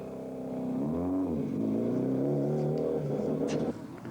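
A Seat Ibiza rally car with a crumpled bonnet, front spoiler, windscreen and headlights drives on at the 1996 Rally of Portugal. Its engine revs loud and close, pitch sweeping up and down, with a brief gearshift near the end.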